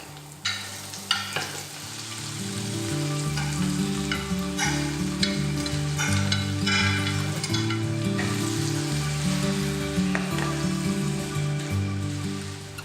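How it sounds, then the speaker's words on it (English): A diced eggplant and chicken mixture hits a hot pan for stew with a sudden loud sizzle that settles into a steady, dense frying crackle, with occasional stirring clinks. "Now we're going to add our eggplant and chicken mixture into the pan."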